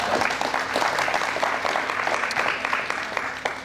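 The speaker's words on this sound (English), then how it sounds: "So let's all give a round of applause for Jonathan." An audience claps in steady, moderately loud applause at a talk on California after Roe, a continuous patter that holds to the end with no break.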